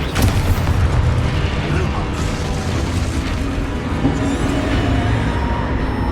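Expulso and Confringo spells explode in close succession during Hogwarts Legacy gameplay, a loud, dense wall of booming blasts and rumbling debris that barely lets up across the whole stretch.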